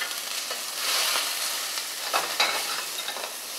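Shrimp frying in very hot oil in a pan for a Creole coconut-milk dish, a steady close sizzle with brief crackling bursts and a few stirring scrapes, with no talk.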